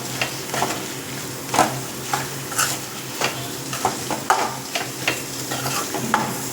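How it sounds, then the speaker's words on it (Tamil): Prawns being stirred through a masala gravy for Kongunadu-style prawn curry, a steady close sizzle broken by repeated scraping strokes of a spoon against the pan. "இறாலை சேர்த்துட்டு நல்லா அந்த மசாலாவோட பெரட்டி விட்டுருங்க."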